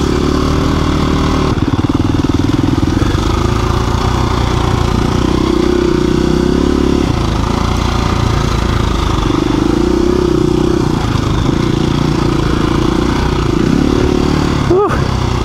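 KTM and Beta dirt bikes ride a rough trail with ups, downs and whoops. A loud, continuous engine drone rises and falls in pitch as the throttle changes, and wind buffets the microphone.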